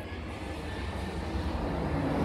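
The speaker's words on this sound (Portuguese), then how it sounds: "Vocês veem barulho de avião" An airplane near an airport gives a low, steady engine roar that grows slowly louder over a couple of seconds, faint and distant, with no talking.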